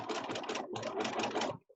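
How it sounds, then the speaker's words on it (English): A sewing machine stitches binding onto a fabric face mask, a fast, dense mechanical whirr in two bursts with a brief pause between, close and clear, ending abruptly with a tiny click. "And I am going to sew this on the wrong side"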